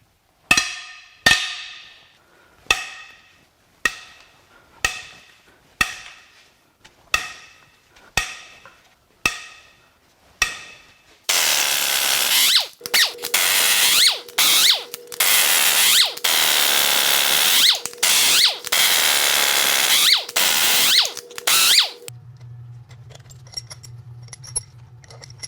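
A series of sharp, ringing impact-wrench hits, each followed by a brief whir, then longer dense rattling bursts break loose the head bolts on a GM L87 6.2L V8 engine. A lower hum follows near the end.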